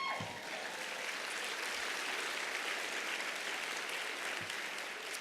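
An audience at a conference address gives sustained applause, a steady, even roar of many hands clapping that fills the room at moderate level throughout.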